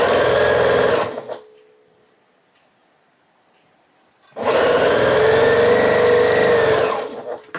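A sewing machine stitches a border piece onto a quilt star block, running in a short burst, pausing for a few seconds, then whirring steadily again in a longer, loud, close run.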